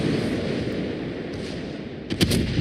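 Naval gunfire in the World of Warships video game, with ships firing on the player's vessel during an Arctic battle: a dense, steady rumble of shots, then a sharper, louder burst of reports near the end.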